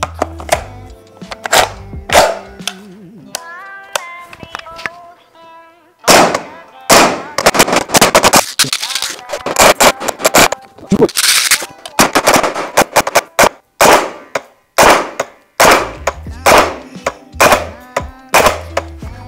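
A VFC MK20 SSR gas blowback airsoft rifle fires a long string of sharp, close, loud shots. They start as a few spaced reports, then come in rapid, steady semi-automatic succession with brief pauses. No one speaks.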